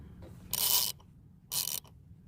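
A ratchet works a strut bolt loose on a Nissan Maxima's rear strut, giving two short, bright clicking bursts close by with a pause between them.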